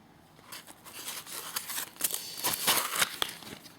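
A packaged replacement glass screen for an iPod Touch 4 is unwrapped, with close, crisp crinkling and rustling of the packaging building in bursts over a few seconds, and no talk.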